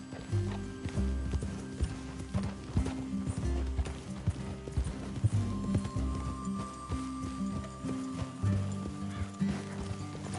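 Horses in a PS4 game clip-clop steadily along at a walk, hoofbeats close and continuous with an occasional whinny, over a low musical drone and ambient game sound.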